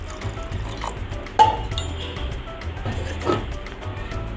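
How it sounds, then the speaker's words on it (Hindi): Water poured into a bowl of soaked rice and dal before grinding for ponganaalu, a soft liquid trickle with a faint clink of a vessel, close and fairly quiet. "थोड़ा पानी डाल के"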